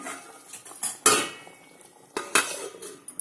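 Fried paneer pieces stirred into a cashew curry in a pan, giving scattered utensil clinks and scrapes against the metal with a couple of sharper knocks, fairly close and with no talking.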